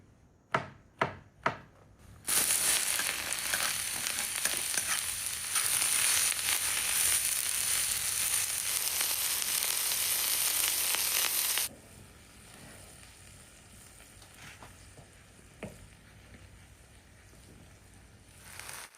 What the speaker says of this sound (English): We add the champignons to the chopped onions and sauté them in oil.